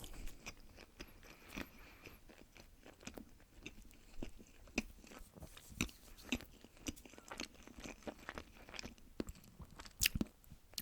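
Close, crisp biting and chewing of a sandwich for an ASMR tasting, with repeated crunchy bites and wet mouth sounds in an irregular rhythm, no talking.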